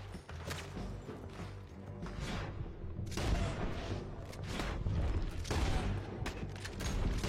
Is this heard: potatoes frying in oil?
no